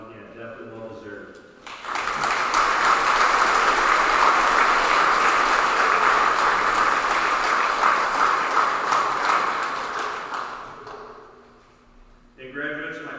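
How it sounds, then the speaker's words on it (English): An audience at a high school graduation breaks into loud, sustained applause for the graduates, a dense wash of clapping that swells and holds for about ten seconds before fading, with a speaking voice just before and after it. "I wanted to take a moment and give them a round of applause again"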